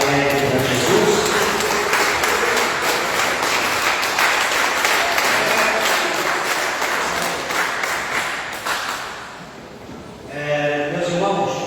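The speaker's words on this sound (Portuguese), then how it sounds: "pode dar uma salva de palmas bem alegre para Jesus" A church congregation claps and applauds loudly for several seconds during a Pentecostal service, a dense steady roar of hands that fades briefly near the end before rising again with voices.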